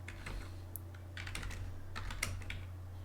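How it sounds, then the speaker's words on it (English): Keys on a computer keyboard are tapped in quick, irregular bursts of close, crisp clicks over a low steady hum, with no speech. "let's just type in a couple of simple commands"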